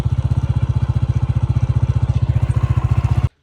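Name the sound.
motorcycle engine running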